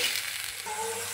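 Turmeric, chili, salt and water hit hot oil in a pan and sizzle steadily and loudly, with a brief stirring scrape partway through.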